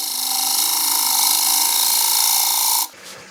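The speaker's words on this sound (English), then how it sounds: "I'm going to drive up with my bowl gouge" A bowl gouge cuts slowly into a closed-form wooden bowl spinning on a lathe, giving a steady, loud, hissing and whirring shave that runs for nearly three seconds and then drops away sharply, leaving only a faint hum.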